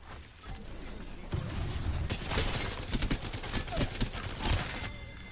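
Rapid bursts of video game gunfire from a single weapon fill the passage, loud and close, with brief gaps between volleys and mechanical clatter mixed in.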